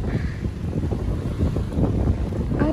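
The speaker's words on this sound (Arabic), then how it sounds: "الرياح شديدة" Strong wind buffets the microphone in a city street in Boryspil, Kyiv region, while waiting at a traffic light, a steady loud low rumble with gusting swells throughout.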